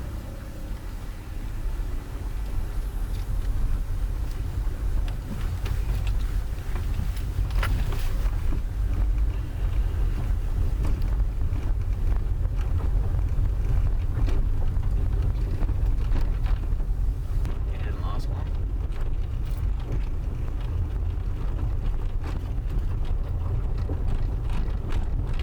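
A Suzuki Grand Vitara drives at night, its cabin filled with a steady low road and engine rumble plus wind hiss, continuous throughout with no talking.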